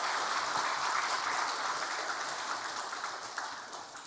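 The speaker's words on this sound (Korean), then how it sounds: "격려의 박수 한번 해주시기 바랍니다" Steady applause from a church congregation during a Sunday service, continuous clapping for several seconds that tapers slightly at the end.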